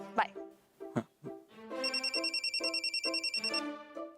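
A telephone's warbling electronic ring pulses rapidly and evenly for about two seconds, following a few brief sounds at the start, fairly close and clear.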